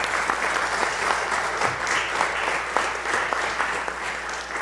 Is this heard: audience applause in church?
yes